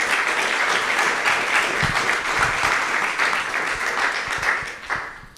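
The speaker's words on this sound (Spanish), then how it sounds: "para quien pido un fuerte aplauso." A seated audience at an academic event in Tenancingo gives Dr. Rubén Nieto a strong, continuous round of applause, steady dense clapping filling the room before tapering slightly at the end.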